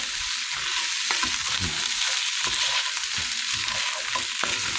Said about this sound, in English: we're going to let that garlic cook and keep stirring